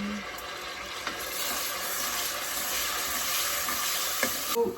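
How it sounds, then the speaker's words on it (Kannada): A paste of garlic, ginger and onion fries in hot oil with a loud, continuous sizzle and crackle, a few faint utensil clicks and a sharper scrape near the end. "ಎಣ್ಣೆ ಕಾದ್ಮೇಲೆ ಆ ಪೇಸ್ಟ್ನ ಇದಕ್ಕೆ ಹಾಕಿ"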